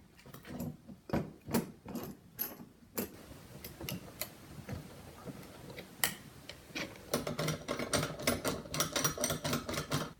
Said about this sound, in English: Then take some C-clamp and C-clamp it down.